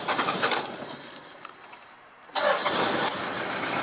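1993 Toyota Land Cruiser Prado with a 1KZ-TE diesel engine, running on a 1998 ECU, cranks briefly and catches. It settles into a loud, close idle while birds call in the background.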